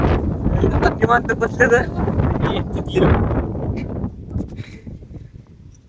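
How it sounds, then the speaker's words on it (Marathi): Strong wind buffets the microphone on a mountain trek at Harishchandragad in Maharashtra, with gusty roaring and rustling throughout, heaviest at the start and easing toward the end, while someone talks over it. "लय वारं सुटले"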